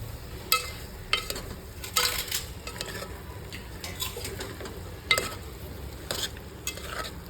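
A spoon stirs potatoes in a metal pan while frying for bhungala batata, giving scraping clinks and scattered knocks against a soft sizzle, with irregular louder scrapes every second or so.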